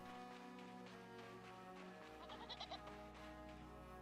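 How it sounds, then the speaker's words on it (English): A goat bleats several times in quick succession inside a video game, a short wavering cry rising over a steady droning game soundtrack. "I hear a goat sound."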